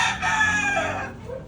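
A rooster crows loudly and close by, a single drawn-out call that trails off, with faint clucking underneath.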